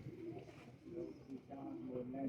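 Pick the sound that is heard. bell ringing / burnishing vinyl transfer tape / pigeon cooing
pigeon cooing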